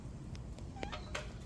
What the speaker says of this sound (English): Is a cat.